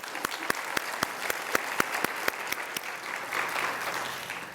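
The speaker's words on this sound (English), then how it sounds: "I'd like to give them a round of applause" Audience applause at a school system's Teacher of the Year reception and awards program, a crowd clapping steadily with sharp claps standing out early and then thickening into a dense, sustained round.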